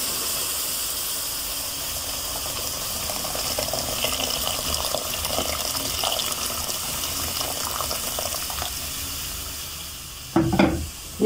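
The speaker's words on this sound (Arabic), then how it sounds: "نبتدي بقى ننزل المية" Water pours steadily into a pot while making homemade carob concentrate, a continuous rushing hiss for several seconds that ends with a few louder splashes and clunks, close and fairly loud with no talk.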